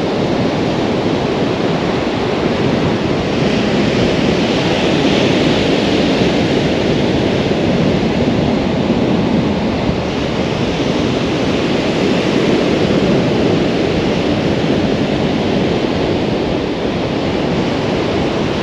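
Wind of about 20 mph blowing across the Holderness coast beside the sea, a continuous loud rushing buffet over the mic with surf wash underneath, steady for the whole stretch and without speech.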